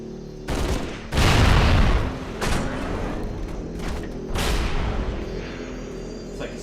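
Gunfire in a video game rings out as several loud bursts of shots and booms, spread across the stretch with quieter gaps between them.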